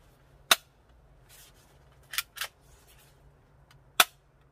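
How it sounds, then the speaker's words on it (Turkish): An airsoft BB pistol, a Desert Eagle or SAR 9 replica, fired at a steel target about 8 metres away outdoors: four sharp, snappy cracks, two isolated and two close together, over a low background hum. "Birazdan atış yapacağım."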